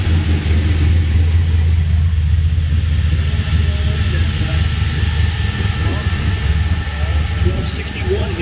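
A diesel Chevrolet C10 truck at a drag strip gives off a loud, continuous engine rumble with shifting revs. Crowd noise and voices sit under it.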